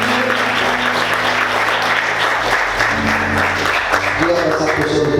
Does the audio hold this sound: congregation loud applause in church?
yes